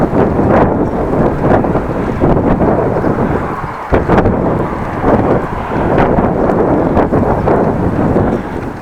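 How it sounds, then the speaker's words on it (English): Strong headwind roars across the microphone while cycling a Dutch bike lane between Appingedam and Groningen, a continuous heavy buffeting rumble with gusty swells and no talking. "Feels like the headwind is more powerful."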